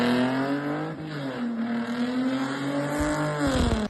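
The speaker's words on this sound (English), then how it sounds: "we have added a NASCAR style exhaust to this car" A 1999 Mercedes E-Class limousine engine with a NASCAR-style exhaust revs loudly and close, the throaty, raspy exhaust note rising and falling steadily throughout, with a sharper blip near the end.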